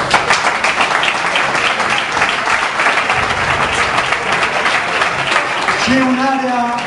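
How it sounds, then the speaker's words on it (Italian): Applause from a gathered crowd at an evening event for an amateur sports club in Sarzana, a steady wash of clapping that holds for several seconds with voices mixed in and a brief tone near the end. "un applauso a tutti"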